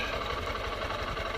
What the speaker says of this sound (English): this engine is definitely burning oil.